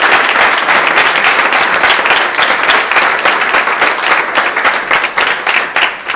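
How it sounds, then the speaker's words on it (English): A conference audience gives a loud, sustained round of applause, dense clapping that carries on throughout with a slight fade toward the end. "So again, a big round of applause."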